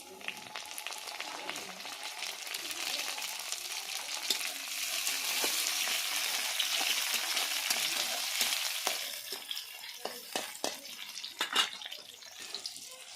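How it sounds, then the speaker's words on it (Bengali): Chopped tomato frying with onions in a pan, a fairly quiet continuous sizzle that swells in the middle, followed by a run of light clicks and scrapes from stirring. "আমি এখন দিয়ে দিলাম টমেটো কুচি।"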